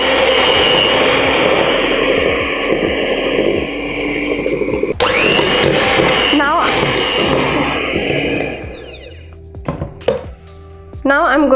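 Electric mixer beating butter and sugar for vanilla cupcake batter, a loud, close, steady whir that cuts off near the end and leaves scattered clatter.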